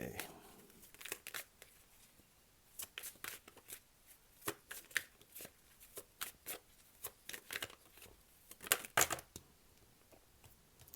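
Tarot cards being shuffled by hand in a quiet room, a run of soft riffling flutters and sharp snapping taps of card on card, close and fairly faint, with a voice talking at times.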